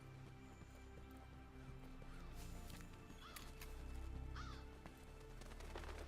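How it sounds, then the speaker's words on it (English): Crows cawing in the video game Monster Hunter World, a few harsh calls standing out over a low ambient game soundscape, fairly faint and without talk. "Hey, look, it's birds."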